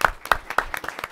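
An audience at a public event on Arctic infrastructure applauds the mayor, producing steady rhythmic clapping from a modest crowd, fairly close and without voices over it.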